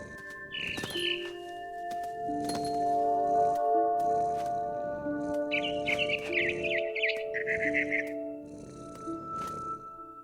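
Bird chirping in the video game What Remains of Edith Finch, short high tweets and trills over a steady ambient musical drone, with no talking.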